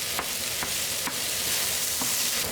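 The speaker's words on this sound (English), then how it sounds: "Now add the eggs back in and give a quick stir." Eggs and cucumber slices stir-frying in a hot pan, a loud unbroken sizzle up close, punctuated by a few quick taps and scrapes of a spatula.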